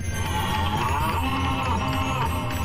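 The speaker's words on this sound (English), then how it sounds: "I run towards the mooing" A cow lows in a sustained, wavering moo, loud and near, filling the whole moment over a steady low background hum.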